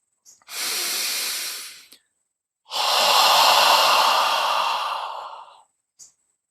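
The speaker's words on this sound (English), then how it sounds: "breathe with me a couple of times with a very open, full out-breath" Two long, full out-breaths exhaled through the mouth, each a loud breathy whoosh lasting a few seconds, the second longer and deeper, with small intakes between them, very close and with no talking.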